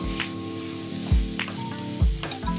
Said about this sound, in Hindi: गुड़ को भी मिक्स कर लेंगे